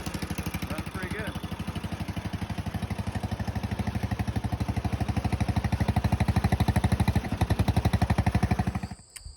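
A Honda engine fitted in a Farmall M tractor runs steadily, its rapid, even firing pulses chugging loud and close for about nine seconds before cutting off abruptly at the end.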